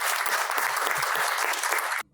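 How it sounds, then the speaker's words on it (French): Applause from the audience at a retirees' celebration held by a university animal biology department: dense, steady clapping that fills the room without break for about two seconds, then stops abruptly. "elles méritent aussi des applaudissements et je vous les demande."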